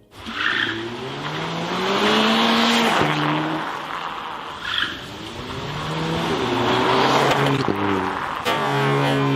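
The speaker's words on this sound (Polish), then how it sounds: "Za chwilę zobaczycie, jak poradzi sobie pod kołami samochodu." A car drives over a Samsung Galaxy S6 phone: a loud, steady engine drone with rising and falling whining tones and squeal-like streaks runs through the whole stretch, with no voices.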